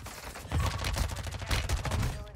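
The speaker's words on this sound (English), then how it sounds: "Who the fuck is shooting me, bro?" Rapid gunfire crackles in the video game Call of Duty Warzone 2, dense bursts of shots in quick succession at close range, loud and continuous for a couple of seconds.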